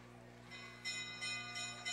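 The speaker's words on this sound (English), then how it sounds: "There's the bell for one lap to go." A bell rings repeatedly to signal one lap to go in a short track speed skating race at an age group nationals event, bright tones striking in a steady rhythm over a constant low arena hum.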